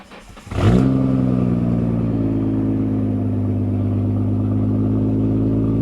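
Nissan Skyline R32 GTR engine cranks briefly and catches, settling into a loud, steady idle that holds close by with no talk over it.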